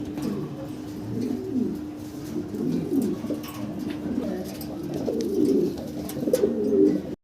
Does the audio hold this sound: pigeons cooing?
yes